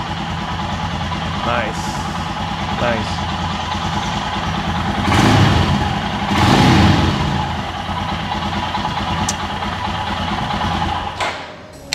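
A motorcycle engine cranked by its electric starter after the fuel pump primes, catching and settling into a steady idle nearby, with brief revs; someone talks over it.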